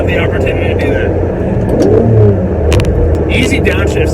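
A Ferrari 550 Maranello's V12 engine hums and rises in revs through a gear shift from inside the cabin, steady and moderately loud, with someone talking over it.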